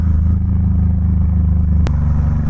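Honda VTX1800 motorcycle's big V-twin rumbling steadily under way, a loud close low-pitched drone with a brief sharp click partway through.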